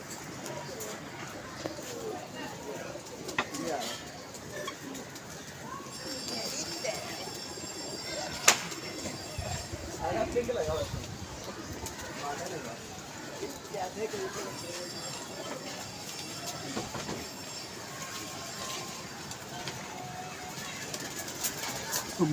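Pigeons coo at a pigeon club rooftop, soft repeated calls mixed into a busy outdoor background while people talk over them throughout.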